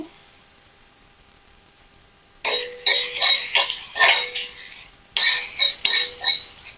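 Metal spoon scraping and clinking against a pan while prawns are stirred, a quiet lead-in followed by two bursts of rhythmic, close scraping strokes with short pauses between.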